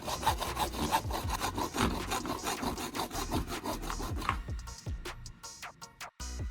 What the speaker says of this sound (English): Then, I'll use a hacksaw to cut along this line.